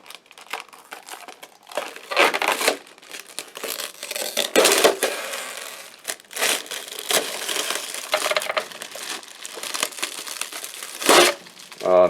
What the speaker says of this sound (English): Chloe, I'm going to let you go ahead and peel the wrapping off of it.